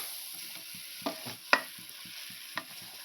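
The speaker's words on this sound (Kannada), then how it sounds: "ಇದು ಕಾಲು ಗಂಟೆ ಮಸಾಲೆ ಫ್ರೈ ಆಗುತ್ತೆ" Masala frying in a pan for a spicy chicken curry, heard as a quiet sizzle under a soft, regular tapping of stirring, with a few sharper clinks of the spoon against the pan.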